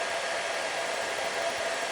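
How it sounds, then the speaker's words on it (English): A hair dryer blows steadily nearby, a loud, even whooshing whir with no break. "I can't tell the story when the hairdryer is on"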